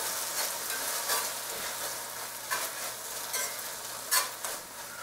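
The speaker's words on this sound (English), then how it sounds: "just go ahead and use your whisk" A whisk works a mixture into pork chop pan drippings, giving a soft hissing sizzle broken by brisk scraping strokes, close and fairly quiet.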